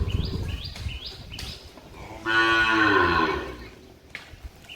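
A village cow lows once in a long, loud, drawn-out moo, preceded by a few sharp chirping bird calls and followed by brief scattered knocks in an outdoor farm setting.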